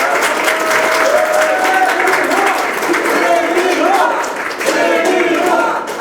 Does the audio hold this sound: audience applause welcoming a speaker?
yes